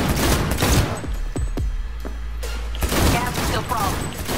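Rapid bursts of gunfire in the video game Cyberpunk 2077, a dense fusillade with several sharp shots standing out, loud and continuous across the clip.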